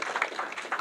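A brief burst of many hands clapping from an audience at a Health 2.0 NYC awards announcement, quiet and roomy, a soft uneven patter lasting under a second.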